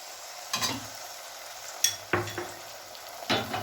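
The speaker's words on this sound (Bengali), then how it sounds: "এবার আমি এতে এই সসের মিশ্রণটি দিয়ে দেব।" Bursts of sizzling and stirring in a pan come in short spurts as sauce is added to frying onions and capsicum, a handful of crackling hits separated by quieter pauses.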